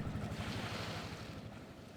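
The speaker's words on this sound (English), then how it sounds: "The engine sputtered. The ferry drifted." A ferry's engine sputters and cuts out as the boat drifts on open water, a low uneven pulsing rumble under steady wind and wave wash, close and continuous with no voices.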